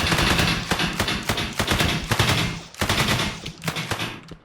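Rapid automatic gunfire from an AI enemy in an Unreal Engine 5 third-person shooter game, loud bursts of shots in quick succession with short gaps between volleys, with no voices.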